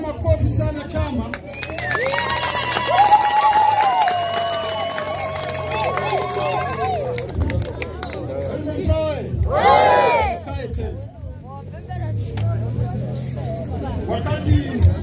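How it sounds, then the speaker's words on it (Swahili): Crowd at an M23 political rally making a loud, sustained noise of cheering and possible clapping, swelling and fading over several seconds, with voices calling out and people talking throughout. "Na mpigie makofi sana chama."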